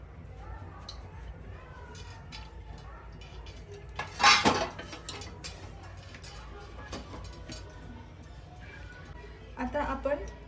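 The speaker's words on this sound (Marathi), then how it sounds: "आता मी कुकर ठेवलाय" A pressure cooker set down on a kitchen stove while rajma rice is being made gives one sharp, close metallic clank partway through, with a softer clatter near the end over quiet kitchen background noise.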